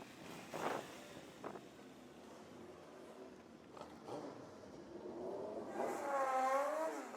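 An Aprilia Tuono 660 motorcycle accelerates hard down the drag strip at Santa Pod Raceway, its engine note heard from a distance and rising in pitch through the gears toward the end, with wind noise throughout.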